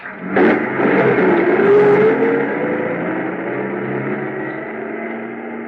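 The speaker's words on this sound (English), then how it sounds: "I stood there in the snow watching the headlights of the truck move away." A truck engine in the snow in a radio drama. It revs up loudly after a short thump and then drones steadily as it pulls away, fading slightly toward the end.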